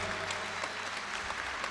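Audience applause at an annual folk-dance ensemble concert, a steady, dense wash of clapping from a crowd that fills the short moment without pause.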